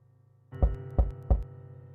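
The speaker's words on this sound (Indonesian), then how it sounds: "Ia mengetuk lagi." Three firm knocks on a door in a Sakura School Simulator drama, evenly spaced about a third of a second apart, landing close and loud over a steady low hum.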